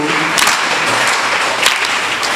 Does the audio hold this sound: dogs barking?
no